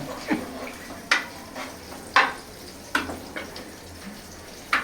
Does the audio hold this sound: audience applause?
no